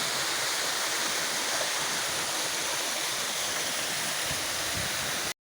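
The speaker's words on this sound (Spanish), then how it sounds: "Ahí podemos ver la imagen de la primera cascada." A steady, dense roar of falling water from a waterfall at the Chorros de Milla zoological park in Mérida fills the whole stretch, loud and unbroken, then cuts off abruptly near the end.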